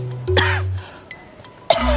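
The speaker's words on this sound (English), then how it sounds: "her has asthma and it keeps coughing" A woman with asthma coughs and clears her throat nearby, a few short harsh bursts separated by brief pauses, loud and close in a quiet hospital setting.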